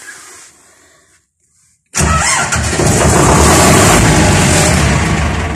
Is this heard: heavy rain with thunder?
no